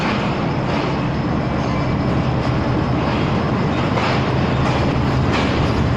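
The Jaffar Express pulling into Rohri railway station, loud and close, with continuous heavy rolling rumble and rhythmic wheel clatter for the whole stretch.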